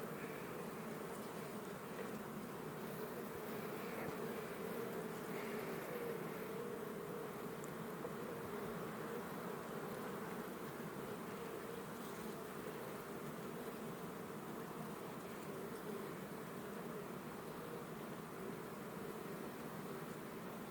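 Ukrainian steppe honey bees hum in a steady, dense buzz around an apiary hive, a continuous swarm drone that stays even and close throughout, with no one speaking.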